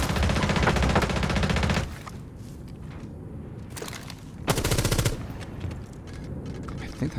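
Rapid automatic gunfire from Rainbow Six Siege comes in loud sustained bursts separated by quieter stretches of in-game ambience and movement.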